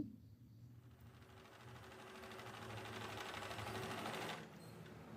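A sewing machine stitches the neckline of a baby frock, its fast rhythmic needle chatter running close and continuous, rising in speed before easing near the end, with no talking.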